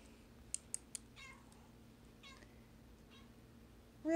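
A cat gives a few short meows spread across a few seconds over a low background hum, with some faint clicks early on.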